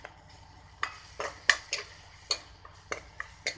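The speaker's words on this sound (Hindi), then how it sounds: "ये हम लोग मिक्स करते हैं" Pork curry with chillies is stirred in a pan, making a series of irregular metallic clinks and scrapes of a utensil against the pan over a faint background sizzle, close by.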